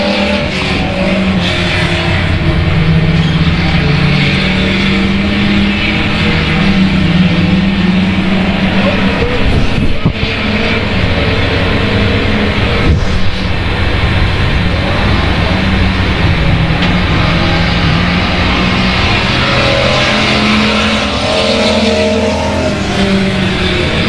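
Race cars going back to racing on a track after a caution, with a loud, sustained engine roar close by that swells and shifts as cars pass, filling the whole stretch without pause.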